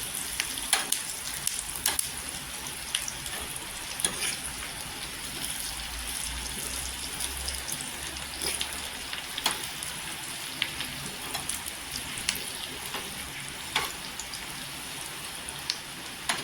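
Asafoetida, curry leaves and garlic sizzle steadily in hot oil for a Marathi-style tomato bhaji tempering, a dense, continuous crackle with small scattered pops throughout, close by and with no voices.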